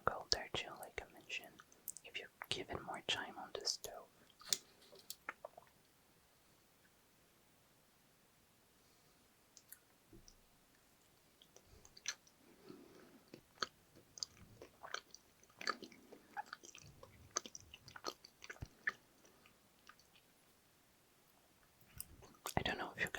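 Soft, close-up chewing of Brazilian brigadeiro chocolate truffles, with moist mouth sounds and small bites in bursts separated by quiet pauses, while whispering runs through parts of the clip.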